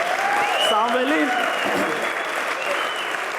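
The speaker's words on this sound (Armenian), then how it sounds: "Ծափարենք Սամվելին։" A studio audience at a humor quiz show applauds a contestant named Samvel, steady loud clapping throughout, with a voice speaking over it near the start.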